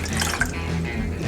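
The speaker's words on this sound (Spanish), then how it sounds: "Lo añadimos en la cacerola." A litre of water is poured into a saucepan, a continuous splashing, gurgling stream heard close and fairly loud for just over a second, with no talk.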